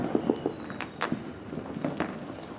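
New Year's Eve fireworks pop and crackle over a city in Cuenca, Ecuador, heard as a scattered series of sharp, fairly distant bangs over a low background hum.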